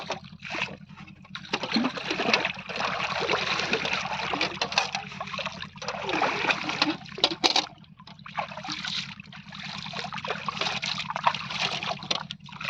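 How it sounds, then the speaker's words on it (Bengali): Freshly caught live fish being washed in pond water, with steady splashing and sloshing close by over a low background hum, rising and falling in uneven bursts. "এই ধোয়া হচ্ছে এখন মাছগুলো।"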